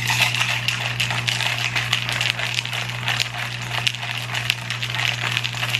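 Ice rattles and clatters in a cocktail shaker holding cranberry juice and liquor, a quick, dense run of clinks and knocks shaken steadily for several seconds, close-up over a low hum.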